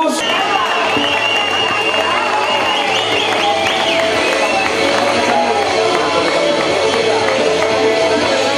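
A crowd at a New Year's Eve San Silvestre race gives sustained applause and cheering, dense and continuous throughout, with a voice speaking over the clapping.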